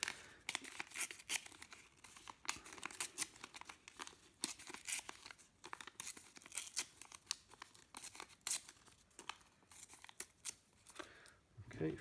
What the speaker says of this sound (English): you start off just by tearing yourself lots of little pieces like that